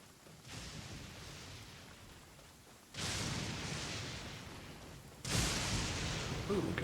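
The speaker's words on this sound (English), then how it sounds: "Lightning!" Lightning strikes and thunder in the Genshin Impact video game: three loud, broad crashes, each starting abruptly and rumbling on for a couple of seconds, with the last one the strongest.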